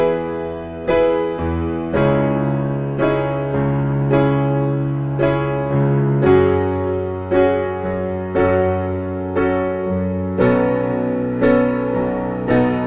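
A solo piano plays the outro of a song, moving through the chorus progression with altered chords. Each bar brings a fresh, full chord struck at a steady, unhurried pace, and the notes ring sustained and clear with no voice.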